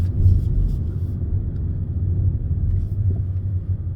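Electric car cruising along a housing estate road in PJ, Malaysia, heard from inside as a low steady road rumble and tyre hum, even and continuous with no engine note.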